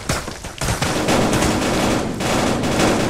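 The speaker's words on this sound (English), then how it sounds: "Why are you shooting me?" Dense automatic gunfire in a VR multiplayer shooting game, loud and continuous bursts of rapid shots filling the whole stretch with only a brief dip near the start.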